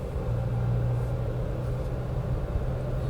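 Steady low engine drone heard from inside a Toyota Etios, a constant rumbling hum with no talking.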